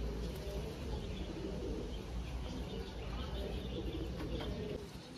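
Low cooing from gola pigeons in a Kolkata loft mixes with soft wing flutters and rustling, a dense close murmur that holds steady throughout.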